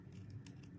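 Scissors snipping through stamped designer series card paper, a short close crisp cut over a steady low background hum, no one talking.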